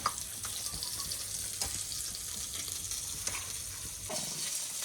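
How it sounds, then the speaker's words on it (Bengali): Fish fries in a pan in a home kitchen, giving a steady, close sizzle with a few light clicks and stirring sounds and no talking. "ওই যে মাছ ভাজা হচ্ছে"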